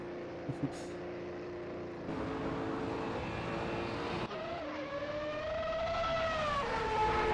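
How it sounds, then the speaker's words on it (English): Formula 1 race car engines in a racing game at the Estoril Grand Prix scream loudly throughout, their high-pitched whine rising and shifting in pitch as cars pass and accelerate, with a brief shift partway through. "God, the F1 cars are so loud. They drown everything out."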